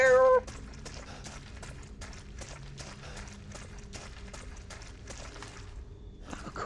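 A cat character in a video game gives one short, loud meow at the start, followed by a steady patter of quick footsteps running across the ground.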